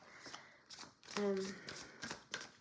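Tarot cards shuffled close by in soft, papery riffling bursts, with a quiet voice talking over them.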